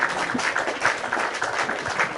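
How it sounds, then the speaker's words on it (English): Loud applause from an audience at a student conference in Poznań, Poland, a dense, continuous patter of many hands filling the room without any break. "Applause for him"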